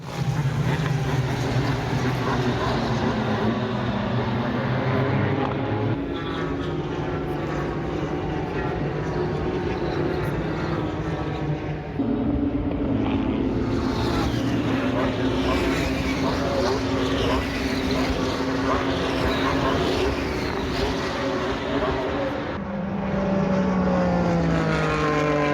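Ligier race cars of the European Series lap a circuit, engine notes rising and falling as cars pass one after another, loud and continuous with shifts in pitch, while a voice occasionally speaks over the track noise.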